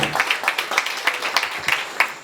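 Sparse, uneven clapping from a small, tired-sounding audience greeting a representative at a corporate event, with individual claps distinct and no voices.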